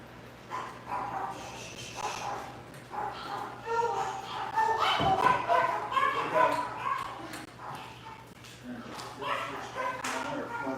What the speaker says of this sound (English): Probably get the dogs barking again.